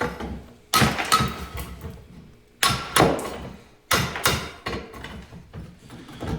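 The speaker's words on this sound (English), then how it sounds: "Take a little hammer, knock the rest of that off there." A small hammer strikes a gas forge in three quick bursts of clanking knocks, knocking debris off the metal, each burst followed by a brief rattle and a pause.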